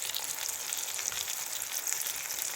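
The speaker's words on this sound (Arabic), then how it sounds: "وهو محمر في زيت البصل. هنحمره وارجع لكم تاني" Koshari frying in onion oil, a steady, fairly quiet hiss of sizzling throughout with no speech.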